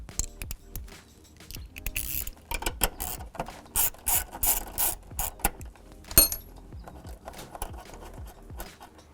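A ratchet loosens a 12mm bolt on a Mazda Miata air box, giving bursts of quick clicking strokes interleaved with metallic rattles and clinks, close and fairly loud with short pauses between.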